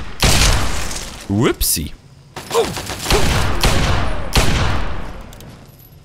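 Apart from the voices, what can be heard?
magnum revolver gunshots in a video game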